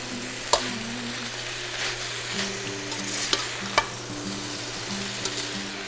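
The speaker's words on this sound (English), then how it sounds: "Put the heat on high and just kind of stir fry it for about 5 minutes to 7 minutes" Pork belly stir-frying on high heat in a pan for braised pork rice, a steady sizzle and hiss with occasional sharp clinks and scrapes of a utensil against the pan, no voices.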